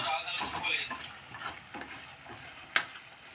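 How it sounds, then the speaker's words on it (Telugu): Egg tomato curry being mashed and stirred in a hot pan with chili powder and salt, soft scraping and sizzling throughout with a couple of sharper utensil knocks near the end. "ఇలా కొంచెం స్మాష్ చేస్తున్నా"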